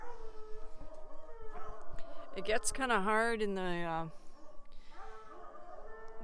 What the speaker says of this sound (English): my coons howling in the background, waiting for their turn to come out for a run.